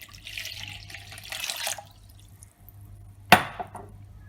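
Water pours into a bowl for semolina pizza dough with yeast and sugar: a soft trickling splash for about two seconds, a pause, then a sharp close clink and brief drip near the end. Nobody speaks.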